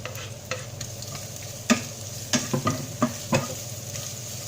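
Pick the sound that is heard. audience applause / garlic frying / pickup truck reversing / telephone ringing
garlic frying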